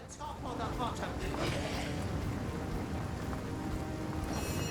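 Steady rain in the video game Divinity: Original Sin Enhanced Edition patters and hisses throughout at moderate volume, a continuous wash of drops on a surface with a few faint tonal sounds above it.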